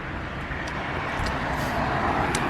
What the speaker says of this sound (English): it might be a bit noisy from road traffic